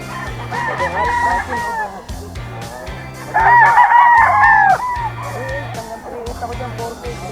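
A Raptor Sweater line gamefowl rooster crows loudly and close, two or three calls in a row, along with clucking and the noise of a busy animal market around it.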